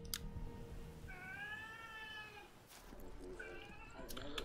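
A tomcat gives a drawn-out, wavering meow, then a shorter second cry, close and indoors against a low background hum.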